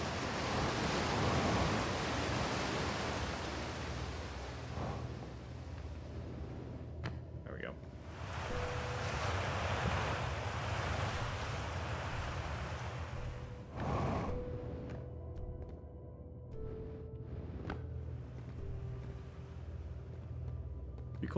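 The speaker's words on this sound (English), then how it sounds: "Oh, that's right, the waterfall too." Steady broadband rush of a waterfall in the video game Outer Wilds, a continuous wash of falling water holding loud throughout, with occasional faint game tones and a brief burst partway through.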